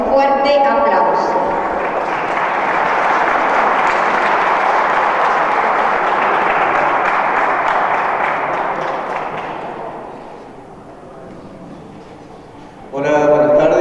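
An audience gives a strong round of applause to welcome a speaker at a presentation, steady loud clapping for about ten seconds that then tapers off, with a voice starting at the end.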